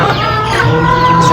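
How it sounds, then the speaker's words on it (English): Large chickens at a stockyard cluck and squawk in quick, close, overlapping calls, loud and steady throughout the short stretch. "Some big chickens."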